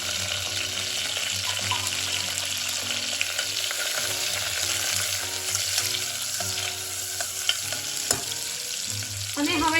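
Finely chopped onion frying in hot oil with cumin and curry leaves sizzles steadily at moderate volume. It is stirred now and then, with a few clinks of the utensil against the pan and no voices.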